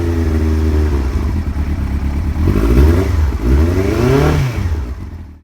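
Yamaha FZ1 motorcycle engine revved a few times from idle, close and loud, with throttle blips that rise and fall in pitch before dropping back to a rumbling idle, no talking.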